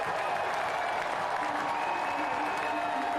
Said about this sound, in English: Delight from the crowd